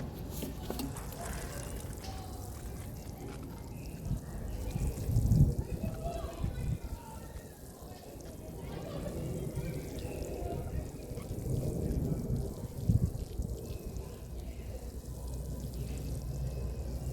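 Water from a watering can pours and splashes steadily onto freshly planted purple sweetcorn in a garden bed, a soft continuous trickle heard close by with a few brief sloshes.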